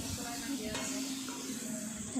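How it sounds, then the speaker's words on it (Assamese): Fish curry with turmeric, salt and cumin powder stirred in a pan, a close steady sizzle with light scraping and clinks of a utensil on the pan. "আকৌ ইয়াত লৰাই দিলোঁ"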